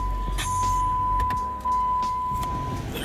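A 2015 Jeep Compass being started from inside the cabin: a short burst of clicks and a steady electronic chime tone over a low rumble that swells as the engine catches, all close and brief, with no talking.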